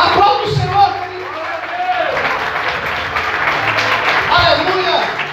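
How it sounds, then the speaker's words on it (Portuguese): A church congregation applauds in sustained, dense clapping with a few whoops, while a voice speaks over the crowd throughout. "Aplauda o Senhor, querido."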